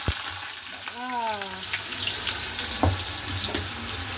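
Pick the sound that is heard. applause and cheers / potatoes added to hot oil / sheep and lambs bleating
potatoes added to hot oil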